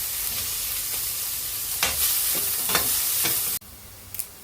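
Chopped onions with fennel seeds and spices sizzle steadily in a hot pan for a chicken curry, with a few spatula scrapes and stirs over the continuous frying hiss until it cuts off near the end.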